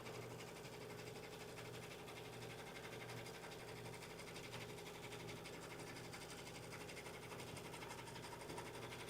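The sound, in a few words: sewing machine stitching bias binding on a bag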